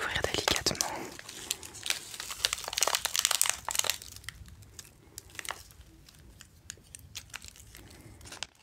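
A small box of candies from a confectionery in the Hautes Vosges is opened slowly, giving close, crisp crinkling and tearing of packaging in the first half, which fades to softer, sparse rustles.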